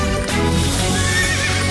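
A horse whinnies loudly over steady clip-clopping hooves in a children's cartoon, the neigh and hoofbeats filling the short stretch with no talking.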